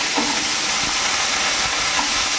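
Cumin and small onions sizzling in hot oil in a pan for idli sambar, a loud, steady hiss that fills the whole moment with no speech.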